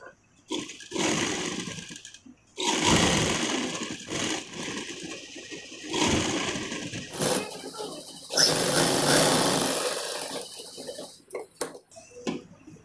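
A sewing machine runs in repeated bursts while stitching the reverse side of a sleeve for a decorative bazu design, with short pauses and handling noises between runs.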